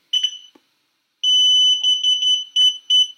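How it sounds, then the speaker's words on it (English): High-pitched electronic pairing beeps from a Landwell drone remote control: a short chirp, a pause, then a long steady tone followed by a rapid run of shorter beeps, close and clear with no talking. "So now we're going to do the remote control, and it's going to make a high-pitched beep."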